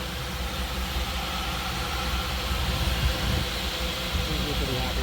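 A mid-sized engine on a Jeep YJ rock crawler idles at about 1,000 rpm with a steady, rough rumble, close by, with faint voices in the background.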